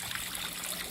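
Water trickles and splashes steadily into a backyard koi pond about three feet deep, a soft continuous outdoor babble with no talk.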